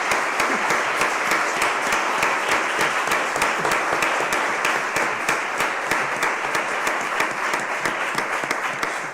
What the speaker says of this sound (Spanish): le vamos a dar un aplauso para manifestarle